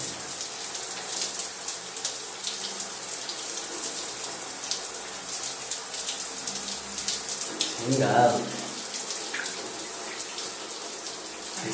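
Water pours steadily from a tap into a bath, a continuous hiss and splash. A man lets out a sudden startled exclamation partway through as the cold water hits him.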